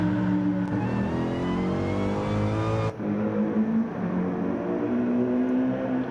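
Race car at Daytona pulling out of the pit lane on fresh tires, engine revving hard and climbing through the gears, loud and close with rising pitch and a brief gear change midway.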